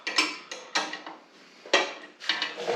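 A hand wrench tightens bolts on a MaxJax 7000 car lift, giving short clicking ratchet bursts in an uneven rhythm, close and fairly quiet, with brief pauses between strokes.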